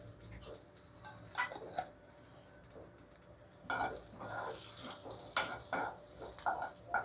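Chana dal, urad dal and cumin fry in a pan for tomato coriander chutney. A low sizzle runs under bursts of stirring and rattling as the lentils are moved around, with louder scrapes near the end and no speech.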